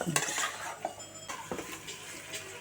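A spoon stirs chicken gravy in a cooking pan, giving close scraping and light metallic clinks over a soft background sizzle, with no voices.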